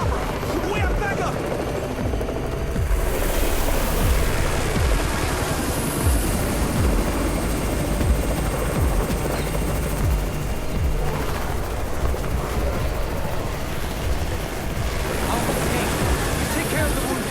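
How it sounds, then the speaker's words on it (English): Helicopter arriving in the zombie survival video game Undawn, a steady low rotor drone running throughout alongside bursts of gunfire-like effects and game noise, with voices speaking over it. "It's the Raven's chopper! We have backup!"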